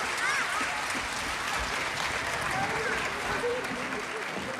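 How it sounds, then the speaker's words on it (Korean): A church congregation applauds children from its school during a live early-morning prayer service, a steady, dense roar of clapping held at an even level throughout, with faint voices and cheers mixed in. "다시 한번 큰 박수로 격려해 주시길 바랍니다."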